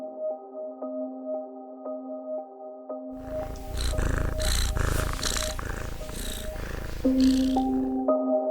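A cat purring in a low, steady rumble, set against a sustained musical drone with shifting tones throughout.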